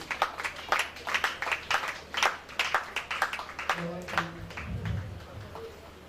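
At a one-day summit of private school proprietors, an audience gives scattered, fairly faint applause to welcome a speaker, with separate claps ringing out at an uneven pace and a voice rising near the end.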